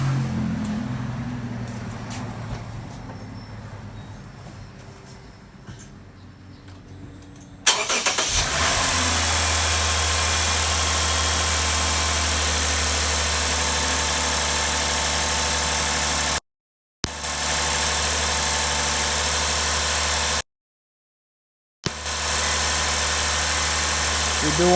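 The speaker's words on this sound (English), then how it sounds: "we're gonna go ahead and start the car now" A Lexus GS350 engine cranks and catches, then settles into a loud, steady idle hum that drops out briefly twice.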